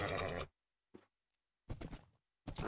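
A horse in the Minecraft video game whinnies in short separate bursts with silent gaps between them, loud and alone.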